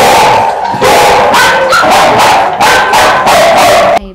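Several dogs bark loudly and repeatedly in a rescue shelter kennel, overlapping yaps and yips with a few whimpers, close and echoing, filling the whole stretch without pause.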